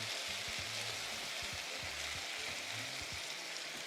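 Chicken thigh meat sizzles steadily in a hot pan after being flipped to cook the other side, a dense continuous frying hiss with soft low bubbling pops throughout, close and fairly quiet, no voices.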